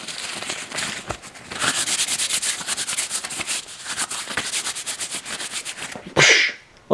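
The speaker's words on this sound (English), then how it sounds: "We will wash our hands before we start with a disinfectant swab." Hands scrubbed with an alcohol and chlorhexidine disinfectant swab give a close, continuous rubbing and scrubbing sound with brief pauses, ending in a louder rustle.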